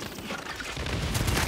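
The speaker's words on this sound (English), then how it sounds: "do y'all not like my airstrikes?" Airstrike explosions in the video game Second Extinction, a dense burst of booming blasts and crackling impacts that swells louder toward the end, heard with no talk.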